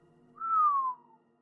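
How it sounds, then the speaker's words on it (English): One long, low whistle from a person, a single tone gliding gently downward for about half a second against a quiet background. "He gave a long, low whistle."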